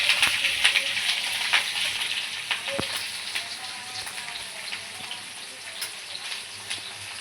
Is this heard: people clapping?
no